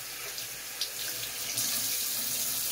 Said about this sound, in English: Rinse my hand off real quick.